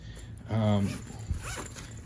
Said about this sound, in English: then you zip that back up and it compresses it.